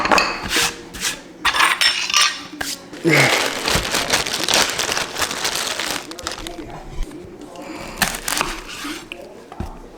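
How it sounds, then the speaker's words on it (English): Tuna salad being mixed in a bowl with a utensil: irregular clinks, scrapes and wet squishing bursts, close and fairly loud, with brief pauses between mixing strokes. "okay, now I'm gonna mix this all up"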